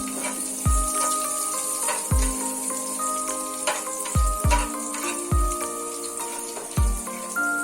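Chopped garlic frying in a pan while a Bengali cabbage kalia is being made, with a soft steady sizzle and a handful of sharp spatula knocks and scrapes against the pan as it is stirred.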